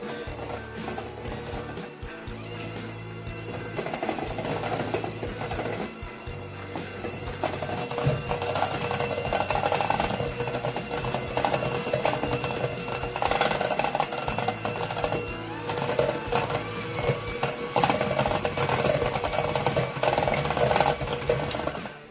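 Continuous whirring motor of an electric mixer running at steady speed, with a slight rhythmic churn as it creams ingredients for cinnamon roll frosting, no talking.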